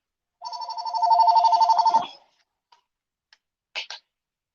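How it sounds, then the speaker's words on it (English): A house phone rings once with a trilling electronic warble lasting about two seconds, loud and close. A few faint clicks and a short double tap follow in the silence. "People are calling my house phone and stuff too."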